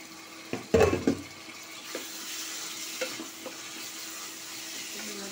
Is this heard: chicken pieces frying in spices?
yes